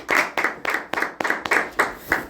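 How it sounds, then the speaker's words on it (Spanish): Eight crisp, evenly spaced hand claps from a single person in a Spanish-language school program, close and fairly loud with no talk over them. "un aplauso, por favor."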